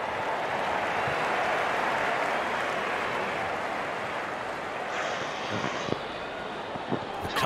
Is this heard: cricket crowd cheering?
yes